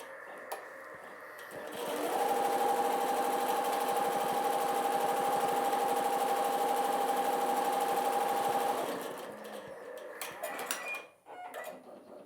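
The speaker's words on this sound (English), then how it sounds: "It's now going to do the placement stitch that we're going to use for our mylar insertion." A Halo-100 embroidery sewing machine stitches a placement stitch, a loud steady mechanical whir with a rapid rhythmic needle chatter and a sustained tone, running for several seconds before winding down into softer clicks and shuffling.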